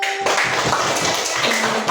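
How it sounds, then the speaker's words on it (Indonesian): Applause in a classroom, a short burst of many hands clapping together close by, steady throughout with faint voices underneath. "Tepuk tangan dulu."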